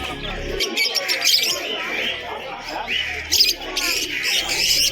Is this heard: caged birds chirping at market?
yes